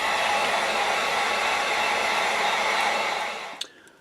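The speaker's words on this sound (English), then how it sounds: "we're going to get the heat gun, and we're going to dry this off some before we start pulling that tape off" A heat gun blows steadily as it dries fresh paint on a jerkbait fishing lure. The loud, even rush runs close and unbroken for several seconds, then cuts off abruptly.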